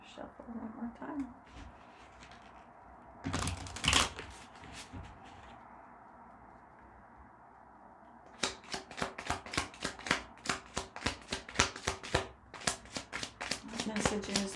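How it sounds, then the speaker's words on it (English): Playing cards are shuffled in a reading session: after a quiet stretch with one brief rustle, close rapid card riffles and snaps start up and continue steadily to the end. "You want me to shuffle one more time?"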